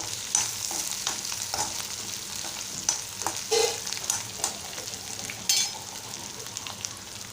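A spoon scrapes and stirs through sizzling potato poha with turmeric powder in a frying pan, with irregular soft knocks over a continuous close frying hiss.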